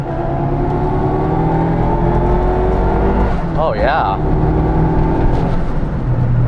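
A turbocharged Honda Civic EF engine revs hard under acceleration, a steady loud drone heard from inside the car while people talk and one voice exclaims briefly.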